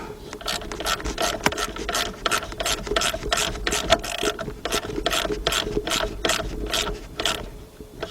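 Socket ratchet tightening the alternator belt bolt on a 2001 Saturn L300 3.0, a steady run of loud, close, evenly spaced clicks lasting several seconds with no talking.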